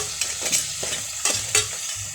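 A spoon stirs tomato paste through a sizzling lobster and crab sauce in a pan, giving several scraping strokes over a steady, close frying crackle.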